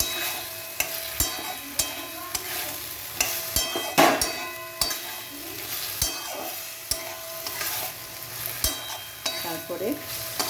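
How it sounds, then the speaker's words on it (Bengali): A spoon stirs chopped vegetables, including papaya, with spices in a sizzling frying pan. It scrapes and knocks against the pan in an irregular rhythm over a steady, close fry. "সবজিগুলো একটু মশলা দিয়ে মাখিয়ে নিয়ে"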